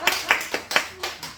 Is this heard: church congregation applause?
yes